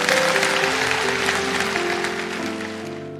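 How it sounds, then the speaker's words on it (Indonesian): A church congregation applauds during a sermon, a dense wash of clapping with steady organ or keyboard tones sustained underneath, loud at first and easing slightly toward the end. "Berikan tepuk tangan untuk Tuhan Yesus."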